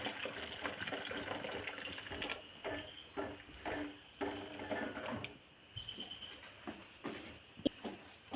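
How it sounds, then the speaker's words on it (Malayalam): Water is poured into a cooking pot for an old chicken curry. It makes a steady, fairly faint gurgling splash with scattered clicks and knocks of the vessel. No one speaks. "വെള്ളം ഒഴിച്ച് കൊടുക്കുവാണേ."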